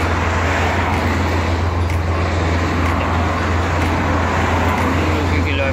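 Steady, dense roar of highway traffic with small cars rolling past continuously, a constant low engine hum underneath and no pauses.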